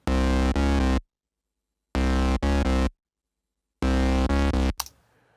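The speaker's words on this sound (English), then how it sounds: "A little edge with Devil Lock and then a little fat." Distorted synth track with a gritty, edgy saturation, played in three bursts of short chopped notes separated by silences, loud and upfront with no voices, ending in a brief noisy tail.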